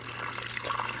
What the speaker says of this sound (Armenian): ջուր ենք լցնում